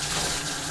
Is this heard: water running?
yes